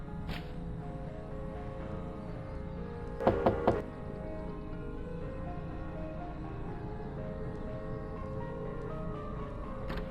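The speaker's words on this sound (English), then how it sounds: "someone knocks on the door" Knocking on a door in a horror video game: three quick, sharp raps close together stand out against a quiet, droning ambient background, with no speech.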